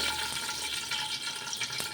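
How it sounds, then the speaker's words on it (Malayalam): Plain water pours into a cooking pot for Malabar chicken biriyani, a close, continuous splashing trickle lasting about two seconds with no talk. "ഇതിലേക്ക് ഞാനിപ്പോൾ വെള്ളം ഒഴിച്ചിട്ടുണ്ട്"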